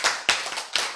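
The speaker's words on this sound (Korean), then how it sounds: "박수" Clapping from an audience at a church lecture, with three short bursts of claps close together within a second.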